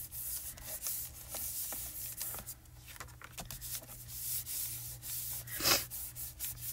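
Scrap paper or a piece of mail rubbed firmly over cardstock in a spring card-making session, a soft, continuous scratchy rubbing with short strokes, close and quiet over a low background hum.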